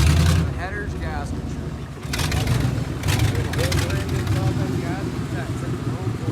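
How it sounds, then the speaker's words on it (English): A truck engine with a diesel-like sound idles with a low, steady rumble during snow ploughing on a driveway. People talk over it the whole time. "It sounds like a little bit of a diesel."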